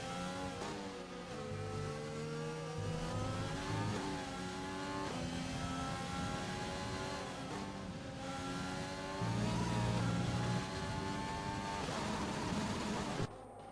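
Car engine in a racing video game replay glitching, a steady mid-pitched engine drone that wavers and jumps in pitch repeatedly, with brief dropouts, heard alone and fairly quiet.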